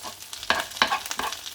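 Fish frying in a pan of foaming butter while being basted, with a steady crackling sizzle broken by three sharper spooned splashes of hot butter.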